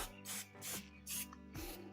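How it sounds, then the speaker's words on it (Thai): Sonax lubricant spray aerosol hissing onto a rusty old water pump motor in short bursts, three or four quick puffs in a rough rhythm, close and fairly quiet. "ก็ผมจะใช้สเปรย์โซเน็กนะครับ"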